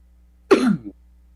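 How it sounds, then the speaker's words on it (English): A single loud, close cough with a throaty rasp, about half a second long, standing out against near silence. "Got like a cannon of a cough going on."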